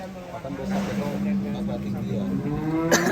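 On a large cattle farm, a cow gives a long, low moo that rises over the barn ambience, while people talk nearby throughout.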